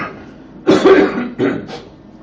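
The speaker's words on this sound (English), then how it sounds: "it's normal cough." A lecturer in an engineering class gives a short series of coughs, three or four harsh bursts close to the microphone, with no speech around them.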